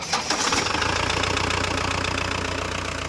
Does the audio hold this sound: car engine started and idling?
yes